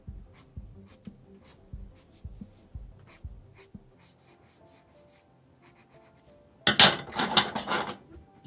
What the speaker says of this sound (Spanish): con el lápiz de color.